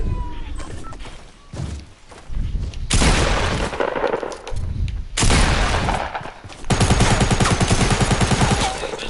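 SMG gunfire in Fortnite crackles in loud rapid bursts with short gaps between them, and the last long burst is dense and sustained.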